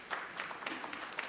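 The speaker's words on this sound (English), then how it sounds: "Let's have a big round of applause." An audience applauds at a talk-show event, a soft, distant wash of many hands clapping, fairly even and brief, heard faintly.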